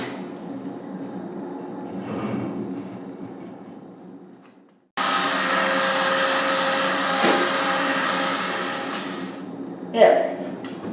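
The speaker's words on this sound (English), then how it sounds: "I'm going to heat gun them and dry clamp." Heat gun heating wooden bow riser laminations, a steady blowing whoosh that fades out, then restarts abruptly and runs continuously, with a faint tone, handling knocks and people talking over it.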